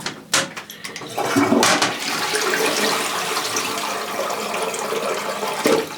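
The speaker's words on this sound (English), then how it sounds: "Flush the toilet." A clogged Niagara Stealth toilet flushes loudly and close by, a sharp start followed by a steady rushing, gurgling wash of water that holds for several seconds before a brief surge near the end.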